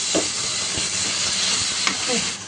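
Tomato puree hitting a hot pan, a steady loud sizzle and hiss throughout, with a few faint clinks of a utensil.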